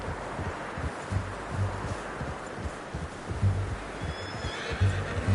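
Horse in Red Dead Redemption 2 snorting and shifting over a steady low ambient bed, with faint rustling and soft clip-clop thuds, plus a brief high whinny-like cry near the end.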